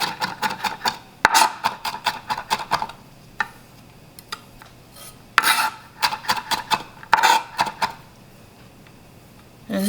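Knife chopping garlic on a cutting board in a home kitchen, quick clusters of crisp taps in several bursts separated by short pauses, close and fairly quiet.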